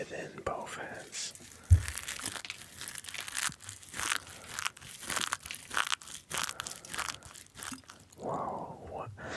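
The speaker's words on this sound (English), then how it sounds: "Okay, now let's make some more of these crunchy sounds." Dried tea leaves crunched and crinkled between both hands, close and crisp, in irregular bursts of rustling with a sharp thump near the start, whispering voice heard between the crackles.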